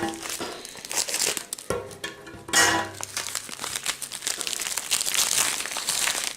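A parcel package from AliExpress holding a survival skull knife being opened, with close crinkling and tearing of plastic wrapping in irregular bursts and a few sharper rustles, no voices.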